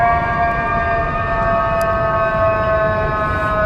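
A loud, sustained fire truck siren wails continuously with steady tonal layers, close by on a Manhattan street during a pro-Palestinian protest, over a rumbling background with no talking.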